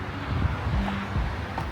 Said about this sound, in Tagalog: Kaya lang mahangin guys.